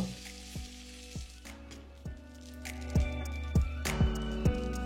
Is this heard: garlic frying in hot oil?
yes